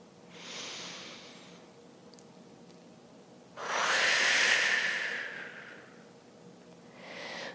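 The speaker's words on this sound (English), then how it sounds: "Take a nice deep breath in and out" During a yoga flow, two soft breaths are heard: a short exhale early on, then a longer, fuller breathy rush, with another breath beginning at the end. They are quiet and close, with no talking.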